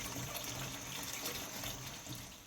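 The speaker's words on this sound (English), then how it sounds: "we're going to rinse them like this 3 to 5 times until that your water is clean" Tap water runs steadily into a kitchen sink as collard greens are rinsed, a constant close hiss and splash with no talk over it.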